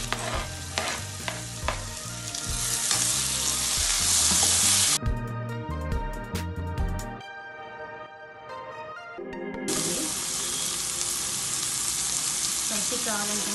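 Tomatoes frying in a pan for pav bhaji, with stirring scrapes and a steady sizzle over background music that drops out briefly midway.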